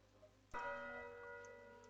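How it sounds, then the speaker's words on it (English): Clicking an ornament in a Christmas video game sets off one clear bell chime that rings out and slowly decays, quiet and alone with no talking. "Oh, I've got a bell noise too."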